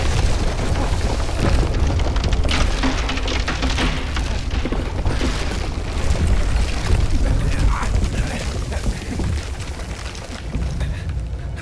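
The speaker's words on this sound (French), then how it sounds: "Normalement ça explose." A gas explosion in the video game Mafia: The Old Country sets off a heavy, sustained rumbling boom with dense low roar and debris crackle that lasts throughout, loud and close.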